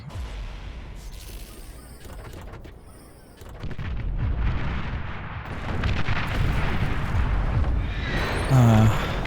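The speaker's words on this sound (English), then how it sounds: "Huge artillery." Heavy artillery fire in the strategy game Beyond All Reason booms and rumbles in a dense, continuous barrage of distant blasts that grows louder partway through, with layered battle noise and a rising tone near the end.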